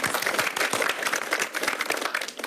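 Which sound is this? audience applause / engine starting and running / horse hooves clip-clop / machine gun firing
audience applause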